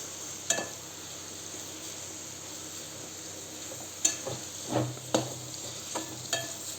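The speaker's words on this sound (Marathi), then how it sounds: "दोन अडीच चमचे तूप टाकले आता छान मिक्स करून घेऊयात" A spoon stirs carrot halwa cooking in ghee in a pan, making a few sharp scrapes and clinks against a soft, steady sizzle, with no talking.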